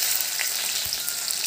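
Chopped onion hitting hot oil with cumin seeds in a pan, a loud, dense, close hiss of frying that holds steady, with a faint stir or two and no talking.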